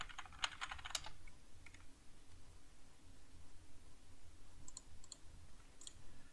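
Quiet keys clacking on a computer keyboard as a command is typed, a quick burst of keystrokes at the start, then a few scattered taps later over a faint background hiss.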